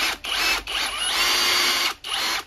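A DCA ADZC22 cordless concrete drill runs in normal drilling mode, a steady high-pitched motor whine that cuts out briefly twice in short pauses, loud and close, with no talking.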